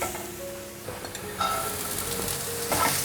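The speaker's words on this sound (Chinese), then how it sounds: "现在放入红萝卜，" Carrots added to shiitake mushrooms already browning in a hot pan, giving a steady close sizzle of stir-frying with light scrapes and stirring throughout.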